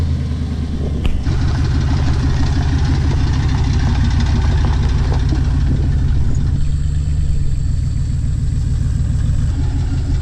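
Cummins diesel truck engine idling nearby, a loud, steady low rumble with a regular knocking pulse, continuous throughout with a brief sharp click early on and no talk.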